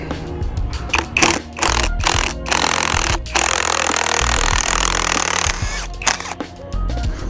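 An impact wrench or power tool works loose a rear shock absorber nut on a 2017 Hyundai Elantra, with loud rattling hammering bursts broken by short pauses, close and harsh.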